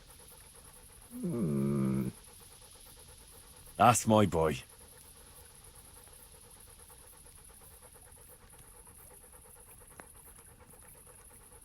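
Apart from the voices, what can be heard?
dog panting in the video game Kingdom Come Deliverance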